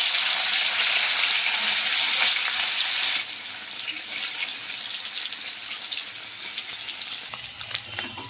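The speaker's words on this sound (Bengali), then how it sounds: "দেখো তেল হয়ে গেছে, এবারে পনিরগুলো দিয়ে দেবো" Paneer pieces frying in hot oil give a loud, dense sizzle that settles after a few seconds into a softer, steady crackle with scattered small pops, heard up close.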